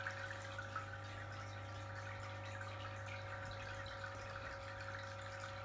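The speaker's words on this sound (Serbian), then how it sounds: "Pumpa malo čudna, zato je bučna." A noisy aquarium water pump runs with a constant low hum and faint watery trickle, steady and quiet with no voices.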